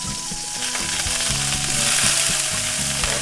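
Onion sizzles and fries in a pan for a Cebu-style ginisang gulay, with loud continuous crackling spatter and stirring scrapes repeating in an uneven rhythm.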